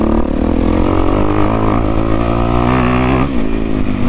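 A 2023 Honda CRF 250R dirt bike ridden on a cold day at an off-road riding area, its engine revving loud and close in a steady high-pitched drone that rises, holds and eases off slightly near the end.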